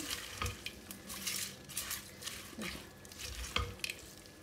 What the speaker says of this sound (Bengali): এখন আমি সারা মশলা, পেঁয়াজ, টমেটো এটা ভালো করে মিক্স করে নেব।